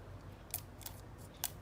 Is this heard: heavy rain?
no